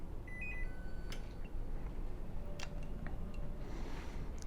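An air fryer's control panel gives a few short, faint electronic beeps when its play button is pressed to start cooking beef short ribs at 200 on the lowest fan speed. The beeps sit over a low background hum.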